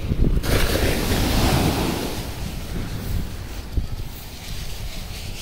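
Big ocean waves crash and roar on Gopalpur beach in Odisha at night, a loud surge at the start that eases into a rolling wash, with wind buffeting the microphone.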